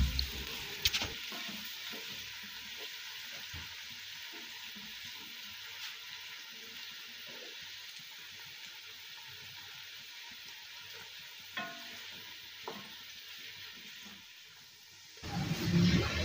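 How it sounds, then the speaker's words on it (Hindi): Chopped onions frying in hot oil for a white bean lobia dish, giving a steady, soft sizzle that runs unbroken with a few faint clinks, then cuts off near the end before a brief louder bump. "ऑयल को हमने अच्छी तरह से गर्म कर लिया और अब इसमें हम प्याज फ्राई कर रहे हैं।"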